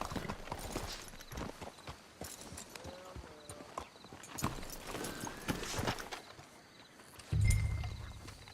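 Horse hooves clip-clop steadily at a walk in Red Dead Redemption 2, with the uneven rhythm of several horses close by over an outdoor ambience, ending in a low rumble.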